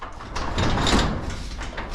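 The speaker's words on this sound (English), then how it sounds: "So I'm going to scoot the door over" A garage door is scooted sideways along its track, giving a continuous rolling, scraping rumble that swells in the middle and then settles, close and fairly loud, with no talking.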